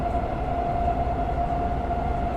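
Class 843 diesel railcar running through a tunnel on the Liberec–Stará Paka line in Train Sim World 6: a steady enclosed rumble with a constant tonal hum, even and unbroken.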